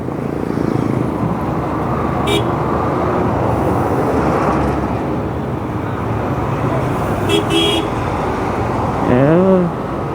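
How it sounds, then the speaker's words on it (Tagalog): Heavy road traffic on a busy rush-hour evening, heard from a moving motorcycle: a steady, loud roadway rumble with a few brief horn honks, and a longer wavering horn blast near the end. "Haba ng traffic dyan."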